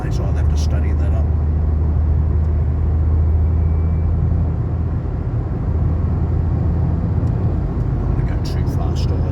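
A Dacia Sandero Stepway drives along a road near Paris, a steady low engine and tyre rumble filling the cabin throughout, with a person talking over it.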